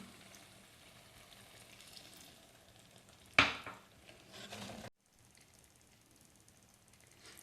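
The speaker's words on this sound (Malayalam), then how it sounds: "ഞാൻ ഇതിലേക്ക് കുറച്ച് നാളികേരപ്പാൽ ഒഴിച്ചു കൊടുക്കുകയാണ്." Coconut milk poured into crab roast cooking in a pan, a sudden burst of sizzling that fades over about a second and a half before the sound cuts off, close and quiet.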